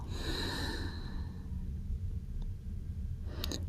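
One soft, drawn-out exhaled breath in a beginner yoga practice, fading over about a second and a half against a low background hum, with a faint click near the end.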